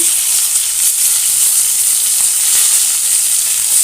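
Pointed gourd (potol) with salt fries in hot oil over a high flame, giving a loud, continuous close sizzle with no pauses throughout.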